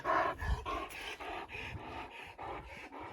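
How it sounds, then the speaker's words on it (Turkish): A dog pants in quick, steady breaths close by, loud and rhythmic over about three seconds, with no talking. "Abi bu köpek."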